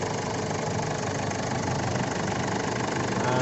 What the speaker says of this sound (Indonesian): Nah ini suara mesinnya renyah.